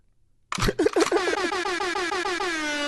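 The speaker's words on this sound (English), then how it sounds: "Air horn." A loud air horn sound effect blasts in a few rapid stuttering bursts, then holds one long sustained blare.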